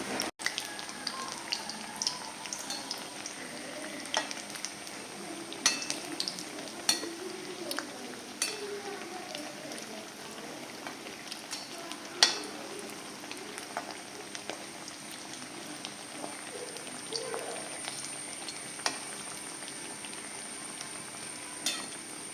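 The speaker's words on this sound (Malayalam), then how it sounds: "അങ്ങോട്ടും ഇങ്ങോട്ടും തിരിച്ചും മറിച്ചുമൊക്കെ ഇട്ട് ഒന്ന് മൂപ്പിച്ചെടുക്കണേ" Kerala-style tapioca fritters (kappa vada) bubble and sizzle softly in hot oil as they are turned over, with scattered light clicks and clinks of a utensil against the pan.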